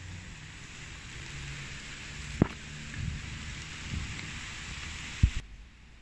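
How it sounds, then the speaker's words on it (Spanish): Steady rain falls in Panama as a storm arrives, a constant wash of hiss with a few low thunder rumbles and thumps scattered through it, the rain cutting off abruptly near the end. "Ya se vino la lluvia, amigos."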